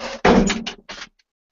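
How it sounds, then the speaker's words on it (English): An indoor door is pushed shut with a loud thump and rattle, followed by a second softer knock as it settles, then quiet. "Shut that door."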